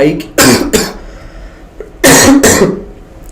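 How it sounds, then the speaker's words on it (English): Two separate bursts of harsh coughing, a couple of quick coughs near the start and another pair a second and a half later, close and loud. "I thought I recovered from this cough, but no, it is not leaving me"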